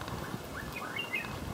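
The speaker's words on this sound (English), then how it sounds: "You can hear birds." Birds chirp in a wet, dripping rainforest along a hillside mule trail on an island, a few faint, brief tweets coming from a distance over a soft, constant background of patter.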